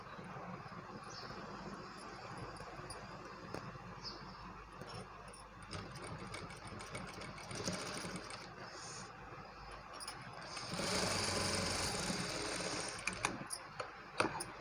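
Sewing machine stitching a newborn baby's cap: a faint, continuous mechanical whir with ticking, ratchet-like needle action that rises in intensity toward the end.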